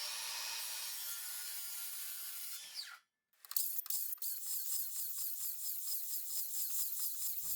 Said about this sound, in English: we're using the crosscut to hack away everything in between the lines